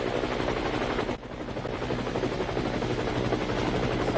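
A helicopter in a video game chops steadily, with its rotor pulsing close and loud throughout and a brief dip partway through.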